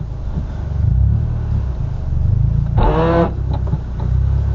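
A manual car with a broken first gear rumbles steadily at close range as it is forced into first without the clutch, with a short strained whine or grind rising midway through the low drone.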